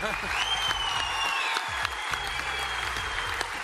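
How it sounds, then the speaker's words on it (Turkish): Sustained audience applause on a Turkish talent show, a dense steady clapping wash with a voice speaking over it throughout. "Şaka bir yana alkışlar karizma şov için"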